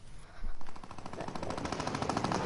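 Rapid automatic gunfire in the Fortnite video game, a sustained rattling burst of shots that builds after a brief pause and keeps going steadily and fairly loud.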